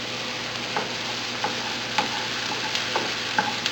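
Pork pieces frying in a pan after tomato for pork binagoongan, a steady close sizzle with intermittent scraping stir clicks throughout.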